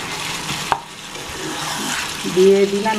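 Soya chunks going into a pan of gravy: a short soft clatter followed by a steady sizzle and wet stirring, close and moderately loud.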